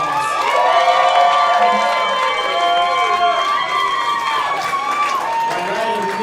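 A comedy club audience at a roast battle claps, cheers and shouts in a dense, loud roar that holds for several seconds, with many overlapping voices.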